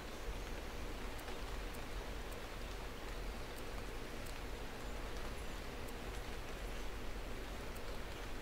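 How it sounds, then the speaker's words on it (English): Steady rain falls across an open landscape in a survival shooter game, a dense even hiss with faint scattered ticks, continuous and moderately quiet throughout with no voices. "Oh, look, here comes the rain again."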